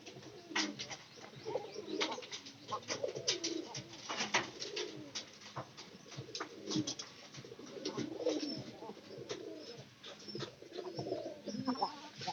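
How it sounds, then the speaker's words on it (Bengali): Pigeons kept in a loft coo softly and repeatedly, low throaty calls overlapping at a moderate distance, with occasional chirps and light rustling throughout. "এই যে এটা মানে পাইরি কবুতর"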